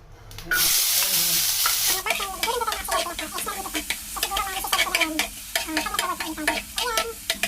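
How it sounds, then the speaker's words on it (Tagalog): Minced pork sautéing in a hot pan bursts into a loud sizzle after a short pause, then continues with a steady crackle broken by repeated scraping strokes of a spatula stirring the meat. "igigisa ko muna yung ating minced pork"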